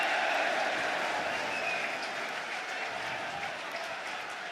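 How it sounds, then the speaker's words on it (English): Home supporters in a football stadium crowd give a broad, sustained cheer and roar at Luton Town against Leeds United, steady and distant-sounding, gradually easing over a few seconds. "So a cheer from the home supporters."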